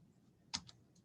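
Typing on a computer keyboard, a single faint key press with a small follow-up click, brief and close in a quiet room.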